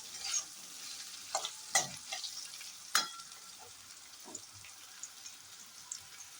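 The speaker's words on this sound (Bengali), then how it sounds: "ভালো করে ফুলকপিটা ভাজা ভাজা করি" Cauliflower frying in a pan on the stove, giving a steady close sizzle broken by a few sharp clinks and scrapes of stirring, with no talking.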